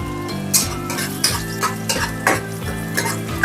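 Garlic sizzles in a pan for a stir-fry of crispy bean sprouts and fish tofu, with rhythmic metallic clinks and scrapes of a spatula stirring every half second or so over a steady frying hiss.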